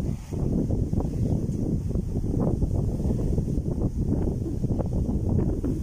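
Wind buffets the microphone of a Honor 8X phone while walking, in continuous low rumbling gusts, loud and close, with no voices.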